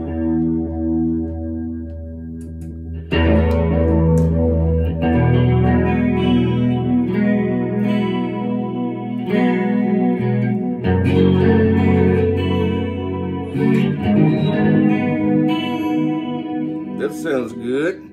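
An electric guitar plays through Echo Tour, Roto Spin and Chorus Waves effects pedals, sounding loud, close and continuous with swirling chorus, echo and rotary-style modulation on sustained chords and riffs after a quiet opening.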